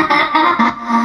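Rapid chopped vocal stutters repeat at a quickened pace, processed and slightly distorted, bursting in short rhythmic pulses.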